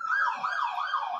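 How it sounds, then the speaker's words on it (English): Emergency sirens pass outside, a rising and falling wail that sweeps steadily, heard at moderate distance and muffled, with no talk over it. "hold for sirens."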